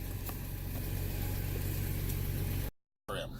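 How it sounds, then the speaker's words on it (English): A 2008 Toyota FJ Cruiser with a P0101 fault code, heard during a test drive: a steady, moderately loud engine drone runs throughout, then drops out briefly near the end. "Let's do a test drive so we can look at the fuel trim a little bit."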